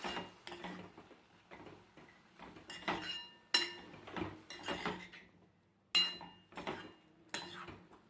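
A leafy vegetable bhaji being mixed by hand in a pot, with a run of close metallic clinks and scrapes from utensil on cookware, coming in irregular bursts and alone without talk.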